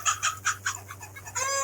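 A chicken clucks close by in a few quick rhythmic bursts, then a longer drawn-out squawk, over a low steady hum.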